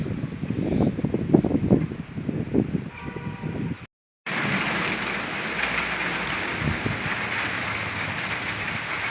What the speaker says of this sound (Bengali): কতদিন আমাদের এখানে বৃষ্টি নেই আজকে বৃষ্টি হলো